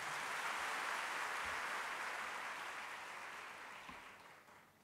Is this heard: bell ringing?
no